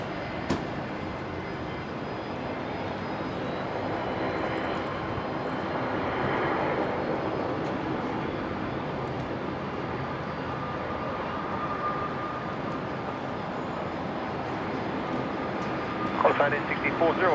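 A plane taking off from runway 01 left at Brisbane Airport, a distant engine roar that swells and fades gradually beneath ongoing talk.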